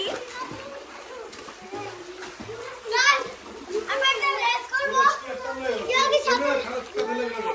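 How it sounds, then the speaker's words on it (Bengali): Children swim and splash in a swimming pool, with intermittent water splashes and excited kids' voices and shouts overlapping close by throughout. "এটা হচ্ছে সুইমিং পুল। তো গাইস দেখেন আমরা এখন সুইমিং আছি।"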